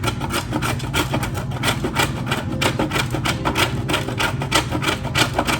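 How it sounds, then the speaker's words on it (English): A metal grater rasps through a block of frozen butter into flour for buttermilk biscuits, in quick repeated scraping strokes, close and fairly loud with no talk. "you're gonna take your grater and you're gonna grate this butter in the whole thing"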